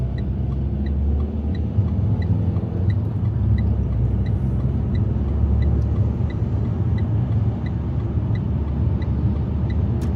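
A car's steady engine rumble heard from inside as it drives round a roundabout, with a regular ticking indicator clicking throughout.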